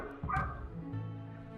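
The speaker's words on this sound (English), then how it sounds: "I guess you could hear that dog barking" A dog barks in the Master of Magic video game, a few short yips and bow-wow barks over a steady background soundtrack.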